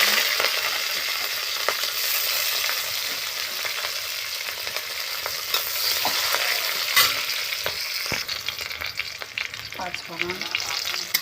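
Bay leaf and green chilli fry in hot oil, crackling and spitting in a dense close sizzle with occasional sharp pops and stirring clicks, no speech over it.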